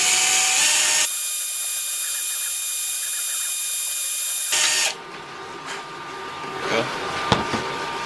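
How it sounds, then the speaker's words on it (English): A high-pitched power drill whines steadily for a few seconds, drilling a small screw hole in a rifle sight, then stops, followed by small clicks and handling noises. "we'll go ahead and drill a little hole right there for another little screw"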